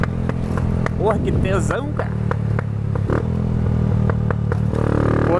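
Crackling exhaust pops from a Honda Today 125cc scooter fitted with a CG 150 carburetor, a string of sharp bangs over the idling engine, with someone talking excitedly over them.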